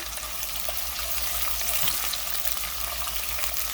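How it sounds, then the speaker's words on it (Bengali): Onions frying in a pan give a steady, moderate crackling sizzle with light stirring, close and continuous over a low hum, no speech. "পেঁয়াজটা আমার মোটামুটি ভাজা হয়ে গেছে এর চাইতে খুব বেশি ভাজা লাগবে না"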